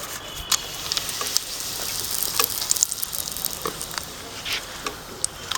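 Bay leaf sizzling in about 10 to 12 tablespoons of hot mustard oil for a mutton curry, a steady close crackle and hiss with scattered sharp pops, no talking.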